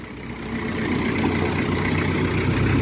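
An Isuzu 4BA1 diesel engine runs steadily at idle after repair for misfiring and stalling, a low rumbling drone that rises slightly at first and then holds constant, close and fairly loud, with no voices.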